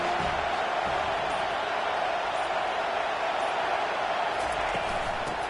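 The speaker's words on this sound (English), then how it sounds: "This crowd bringing an ear-splitting welcome to their visitors." A stadium crowd at a football game sends up a constant, loud roar of cheering that holds steady throughout, with no clear breaks or individual voices.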